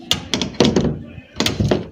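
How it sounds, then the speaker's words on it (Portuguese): A kayak paddle drops off its holder on a Hobie Mirage Passport kayak, giving a series of hollow plastic thunks and knocks in two quick clusters, close and loud. "quando eu quero colocar o remo aqui e continuar batendo isca, fazendo alguma coisa, ele cai."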